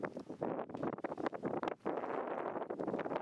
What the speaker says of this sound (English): it was super windy today